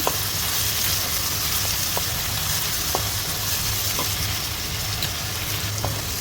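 Finely chopped onion sautéing in a pan for a bitter gourd gojju, a loud continuous close sizzle with occasional faint spatula taps and no talking.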